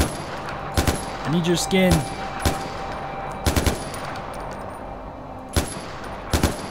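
Sharp gunshots fired at a rhino in Far Cry 4 crack out in scattered single shots and short bursts, loud and close, with someone speaking briefly between them.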